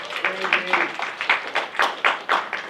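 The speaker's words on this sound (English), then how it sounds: "Let's give him a round of applause." A small audience at a sales meeting claps to welcome a speaker, light scattered handclaps in a room, fairly close, with a voice briefly talking at the start.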